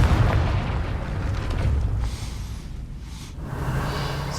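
Confringo fire spell blasts in Hogwarts Legacy, heard as booming, rumbling explosive bursts that fill the whole stretch, with a dip in the middle before the roar swells again.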